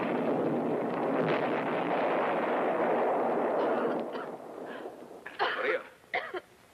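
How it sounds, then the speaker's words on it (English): Explosions boom through a cave, a dense continuous roar for about four seconds, then fading into several sharp separate blasts and rumbles. "I'm scared of explosions."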